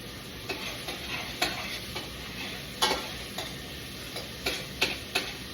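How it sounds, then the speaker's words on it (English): Vegetables sweat in olive oil in a pot, giving a steady soft sizzle with a scatter of light stirring clicks and scrapes from a spoon, close by and with no one speaking. "the idea is just to soften up, sweat the veggies a little bit, not brown them"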